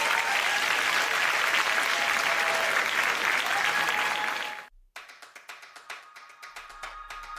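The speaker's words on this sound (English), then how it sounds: "another round of applause for Farid" Audience applause for Farid, an honoree at an API Futures leadership event, rises as a dense, steady wash of clapping for several seconds, then cuts off abruptly. Sparse light taps follow.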